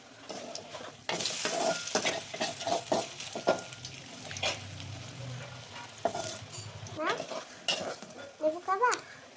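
Taro (mankochu) fritters frying in a pan of oil, with a soft sizzle running beneath repeated sharp clinks and scrapes of a utensil turning the pieces.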